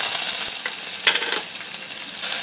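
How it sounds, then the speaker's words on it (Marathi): Peeled, chopped raw potato frying in hot oil with curry leaves in a pan, giving a steady close sizzle broken by soft stirring scrapes. "1 मिनिटासाठी तेलावर बटाटा चांगला परतवून घ्यायचा।"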